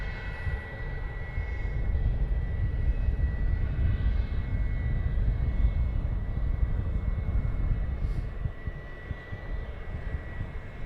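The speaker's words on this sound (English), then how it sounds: "I do believe I've got the Dreamliner in sight now" A Boeing 787 Dreamliner approaches Luton Airport, its engines a steady, fairly loud low roar that holds for several seconds before easing slightly toward the end.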